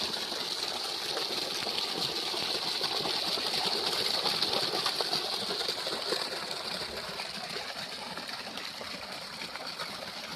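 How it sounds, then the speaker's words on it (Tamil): Water gushes steadily and forcefully from a new solar-pumped borewell with a 7.5 hp pump and 2-inch delivery pipe, a continuous close rushing hiss with no voices over it. "தண்ணி பாருங்கள் நல்லாவே ஃபோர்ஸாக வந்துட்டுருக்கு"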